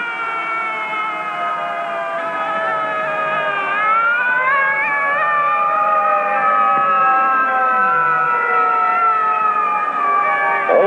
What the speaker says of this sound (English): The siren shrieks, "Clear the way, here come the firefighters."